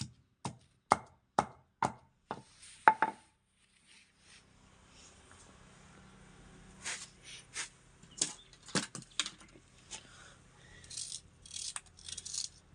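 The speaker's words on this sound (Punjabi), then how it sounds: "ਹੁਣ ਆਪਾਂ ਇਹਦੇ ਵਿੱਚ ਪਿਆਜ਼ ਕੱਟ ਲੈਨੇ ਆ" Onions are cut into rounds on a board: a steady series of crisp knife chops, close and clear, followed by lighter, irregular cutting taps and rattles.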